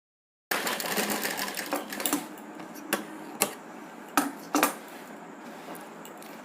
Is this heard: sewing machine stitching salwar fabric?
yes